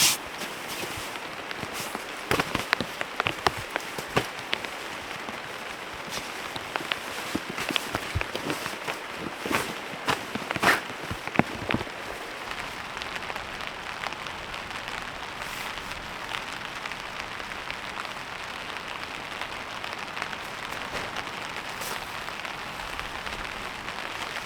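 Heavy rain falls on a tarp and tent at a riverside campsite, a loud, steady patter and hiss with sharper drop impacts clustered early on, then an even downpour with no talk.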